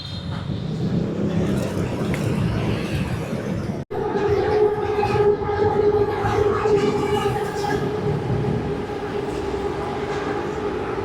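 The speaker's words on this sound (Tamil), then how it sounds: "2 ட்ரெயின் ஒரே டைமில் இன்டர்செக்ட் ஆச்சு. வாட்டர் ஷாட்டில் 4 ட்ரெயின் இங்கே போகுது." Trains rumbling and rolling past in central Bangkok with a steady mechanical drone, a brief cut partway, then sustained tonal wheel and motor whine alongside murmuring background voices.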